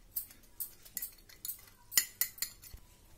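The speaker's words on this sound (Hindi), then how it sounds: "इसको मिक्स करके ऐसे हम चला चला के मिक्स कर लेंगे" A spoon stirs a flour-and-water paste in a bowl, giving a string of sharp, close metallic clinks and scrapes in a steady, uneven rhythm against quiet surroundings.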